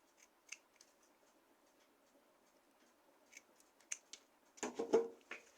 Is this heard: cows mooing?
no